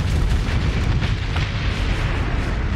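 Torpedoes fired and exploding in the Starsector space combat game, a dense continuous rumble of heavy booms and blasts, loud and sustained with no pauses.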